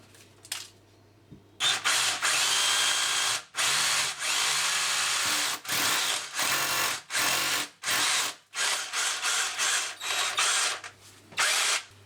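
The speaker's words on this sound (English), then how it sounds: "I'm now just going to drill the holes." Electric drill boring fixing holes into a wall to mount an extractor fan, loud close bursts of whining drilling repeated about eight times with short pauses between.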